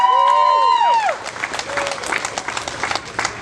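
Applause and scattered cheering from a rally crowd welcoming a speaker named Craig rise after a brief musical sting, continuing as steady clapping at moderate distance.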